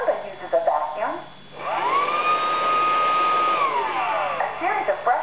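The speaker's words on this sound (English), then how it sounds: "Roomba uses a vacuum," A Roomba 550 robot vacuum cleaner runs with a steady, tonal motor whine that swells up, holds for a couple of seconds and then winds down, over a constant whooshing hum with faint voice-like sounds at the edges.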